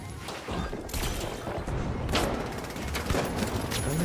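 Gunfire in the video game The Finals: a dense, loud fusillade of rapid shots with some crashing impacts, continuous across the clip with no pauses.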